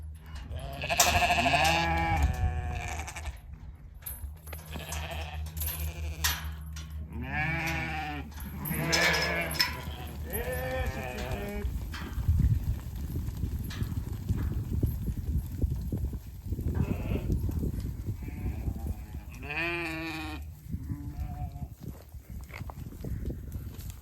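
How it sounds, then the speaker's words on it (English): Hair sheep bleating several times among farm livestock, with repeated wavering calls over steady outdoor background noise and some clopping hooves. "sheep, sheep, sheep"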